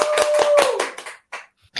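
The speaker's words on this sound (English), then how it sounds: "So clap for Mark" Audience clapping for Mark the DJ at a live show, a dense burst of hand claps for about a second that thins out into a few scattered claps.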